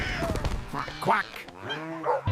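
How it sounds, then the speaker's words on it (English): Cartoon duck quacking in a farm animal cartoon, a few voiced, nasal quacks in quick succession, close and fairly loud, with other cartoon voice sounds around them. "Quack."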